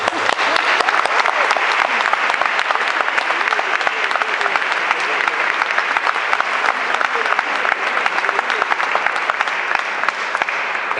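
Dense, sustained audience applause fills a hall at the Hay Festival Segovia 2014, an even wash of many hands clapping without pause for the full length, loud and close.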